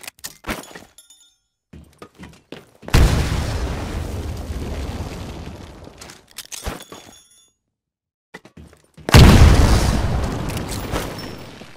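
Two loud grenade blasts in the Titanfall shooter game, each a booming burst that decays over several seconds, separated by scattered clicks and short thuds of gunfire.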